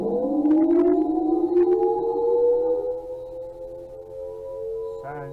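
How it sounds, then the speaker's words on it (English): An outdoor tornado warning siren drones as a long sustained wail, rising slightly in pitch and then fading, with faint clicks and a small thump near the end. "Sirens going off."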